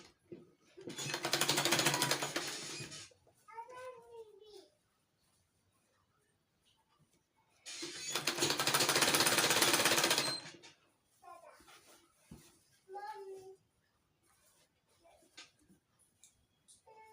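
A sewing machine stitches a peplum blouse sleeve seam in two bursts of fast, even running, a few seconds each, with quiet pauses and brief handling sounds between them.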